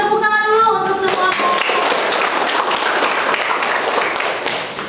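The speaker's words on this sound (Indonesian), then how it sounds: "Kasih tepuk tangan dulu untuk semua." Classroom applause for student groups who have just finished presenting their discussion results, a dense burst of clapping from many hands that starts over a brief voice and holds steady before tapering off.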